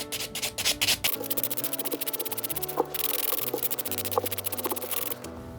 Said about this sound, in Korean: 파일링이 끝나고 나면 샌딩 블럭을 이용해서 표면 정리.